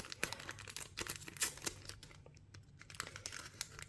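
A Dragon Ball Daima starter pack of Panini trading cards is torn and opened, with dense crinkling, rustling foil and paper handling in quick irregular bursts, close and fairly quiet, with a brief lull partway through.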